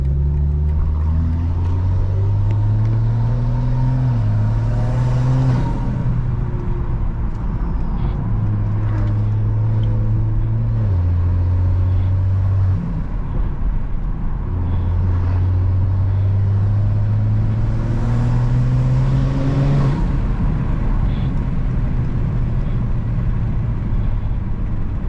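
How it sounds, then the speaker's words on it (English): A stage 2 BMW M340 engine drones steadily while driving, loud and close, with its pitch rising through gears and dropping at shifts, two climbs swelling into louder surges. "This car can be loud when it needs to be"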